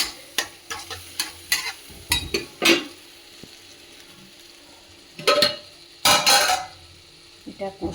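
Katla and pabda fish sautéed in a pan for a curd curry, heard as bursts of spatula stirring and scraping against the pan with a soft sizzle underneath, clustered at first and then in two louder passes.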